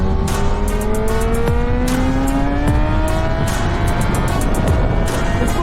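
A Kawasaki ZX10R motorcycle with a Moore Mafia ECU flash screams loud and close, its engine pitch climbing and shifting through gears in a sustained high-revving roar with rapid buffeting.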